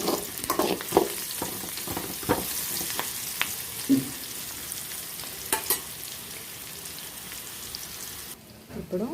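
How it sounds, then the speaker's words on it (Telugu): Ridge gourd and turmeric are stirred into onions frying in a pan, with a steady sizzle under repeated scraping knocks of a spoon against the pan. The stirring comes in irregular bursts throughout, and a voice speaks faintly at times. "ఈ విధంగా ఫ్రై అయిన తర్వాత పసుపుని యాడ్ చేసుకుందాం ఇది మిక్స్ చేసుకోవాలి కలుపుకోవాలి"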